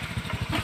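Motorcycle engine idling nearby, a low, steady rhythmic putter of firing pulses throughout the short moment, fairly loud with no talk over it.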